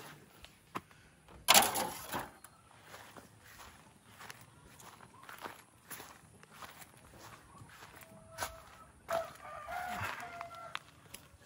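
Chickens and a rooster on a farm cluck and crow faintly amid scattered footsteps and handling noises, with a few louder bumps breaking the quiet.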